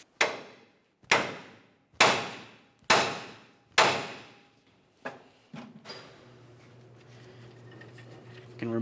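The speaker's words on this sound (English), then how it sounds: "We'll continue on with a hammer, and we're going to give this a couple loving bonks, trying to cause vibration to break this free." A hammer strikes a steering knuckle on a 1994-2002 Dodge Ram 2500 to jar the tie rod end loose, five loud, ringing metallic blows about a second apart, then lighter knocks and a rising shuffle.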